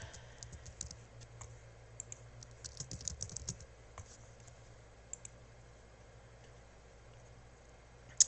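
Light typing on a computer keyboard, soft scattered keystrokes with a brief busier flurry midway, faint and close, ending in a single sharper click.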